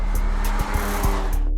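A Mercedes-AMG A45 in Sport mode gives a steady, loud engine drone with a throaty low tone and a few brief pops, heard close up for under two seconds.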